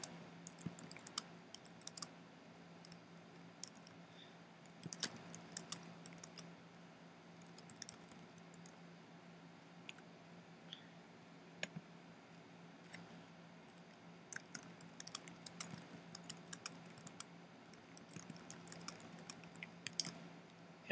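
Typing on a computer keyboard, a quiet close run of irregular clicks and short bursts of keystrokes over a steady low hum, with brief pauses between flurries and no talking.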